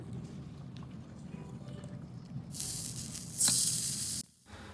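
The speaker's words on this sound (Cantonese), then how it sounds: "好，準備將呢塊阿波牛放上去啦。" A slice of Awa beef hits a hot pot with a sudden loud sizzle over quiet background chatter, swelling for a couple of seconds before cutting off.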